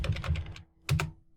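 Keys are tapped rapidly on a computer keyboard as a command is entered, with a quick burst of clicks, a brief pause, then a couple more close, crisp keystrokes.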